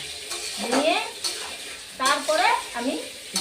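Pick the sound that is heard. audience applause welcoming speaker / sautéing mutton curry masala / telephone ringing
sautéing mutton curry masala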